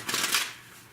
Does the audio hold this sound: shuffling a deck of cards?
yes